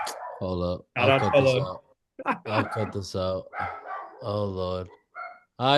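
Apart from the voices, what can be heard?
dog barking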